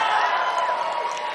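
A large fan crowd at a Warcraft gaming event in Los Angeles, a dense wash of cheering and chatter at steady volume, brief and close.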